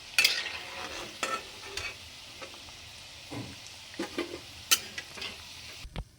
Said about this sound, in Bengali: পকোড়াগুলো কমপ্লিট হয়ে গেছে, এবার তুলে নেবো